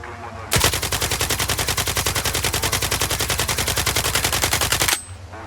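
A long, unbroken burst of rapid automatic rifle fire in S.T.A.L.K.E.R. 2, loud and close, with evenly spaced shots for about four and a half seconds before stopping abruptly.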